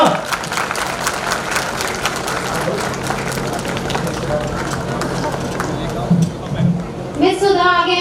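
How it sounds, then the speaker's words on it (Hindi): Audience clapping at a prize-giving during a Dr. Ambedkar Jayanti celebration, a steady crowd patter under an announcer's voice, with a clap-like burst near the end. "जोरदार तालियां रजनी जी के लिए।"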